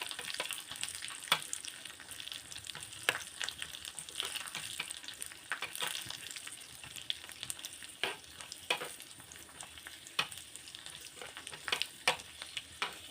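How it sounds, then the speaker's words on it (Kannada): Almonds and raisins fry in oil in a pan for carrot halwa, a quiet continuous sizzle dotted with frequent small crackles and pops, no voices. "ಆಮೇಲೆ ಬಾದಾಮಿ ಹಾಕ್ಕೊಳ್ಳೋಣ. ಆಮೇಲೆ ದ್ರಾಕ್ಷಿ ಹಾಕ್ಕೊಳ್ಳೋಣ. ಫ್ರೈ ಮಾಡೋಣ."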